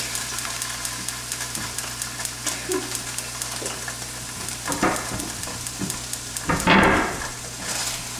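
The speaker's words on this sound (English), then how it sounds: "So I'm going to mix it up. I'm going to kind of stir it kind of frequently." Eggplant pieces and cream cheese sizzle steadily in a hot pan, with soft scraping and clicking stirs through a constant frying hiss that swells louder near the end.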